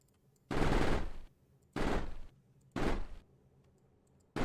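Turrets firing bullets at enemies in the game Mindustry, heard as three loud rapid-fire bursts of about a second each, separated by short quiet gaps, with a fourth beginning at the end.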